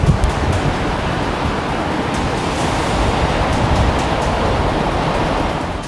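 Rushing floodwater of the Rishiganga river in Chamoli during a sudden flood, a dense, steady roar of churning water that holds loud and unbroken throughout with no voices.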